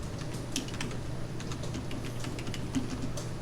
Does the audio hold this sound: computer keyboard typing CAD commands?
yes